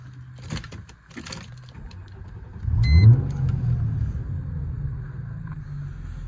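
A 2004 Chrysler Crossfire 3.2 V6 with stage 1 remap and stainless exhaust cranks and catches around the three-second mark, then settles into a steady, rumbling idle close by after some faint clicks and fan noise.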